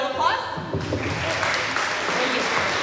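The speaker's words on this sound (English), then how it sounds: "one final round of applause" An audience at a middle school honor roll ceremony applauds, the clapping swelling in after a moment and holding steady, with voices mixed in underneath.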